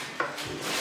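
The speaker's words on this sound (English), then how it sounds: "So just chopping up these tomatoes." A knife cuts through fresh tomatoes being prepared for homemade salsa, giving one short, crisp thunk on a board against quiet room tone.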